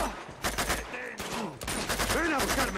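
Rapid gunfire from the Uncharted 2 video game crackles in dense, overlapping bursts, with someone talking excitedly over the shots.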